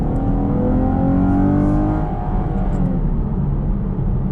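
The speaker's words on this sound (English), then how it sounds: "I'm gonna get on the throttle a little bit here." A 2019 Chevrolet Camaro LT with a V6 engine accelerating under throttle, a loud, close, continuous engine drone that rises steadily in pitch with no speech.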